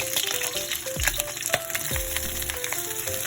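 Pork hock (pata) fries in oil in a pan, giving a constant close sizzle and crackle with a few scrapes and knocks of utensils.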